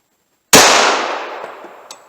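A single sharp gunshot from a full-sized .45 ACP handgun firing Speer Gold Dot ammunition, close and loud, with a long decaying echo after it and a couple of faint clicks at the end.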